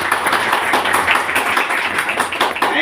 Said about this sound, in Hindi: मैं चाहता हूं अगेन उस आदमी के लिए एक बार जोरदार तालियां